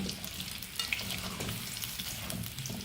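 Pieces of apple gourd (tinda) frying in oil in a pan, a continuous close sizzle and crackle with occasional stirring clinks, no voices over it.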